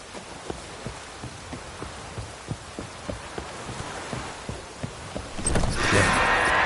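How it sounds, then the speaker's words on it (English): Rain falls in the video game Witcher 3 as a steady hiss with soft rhythmic thuds, then swells into a louder downpour near the end. "Looks like rain."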